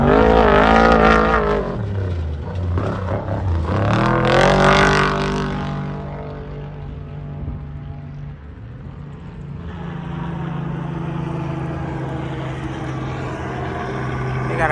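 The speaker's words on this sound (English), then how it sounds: "So this is truck number 3 coming around." An off-road race truck at the 2022 Parker 425 desert race roars past under full throttle, its loud engine note climbing, sweeping and then falling away as it drives off into the distance.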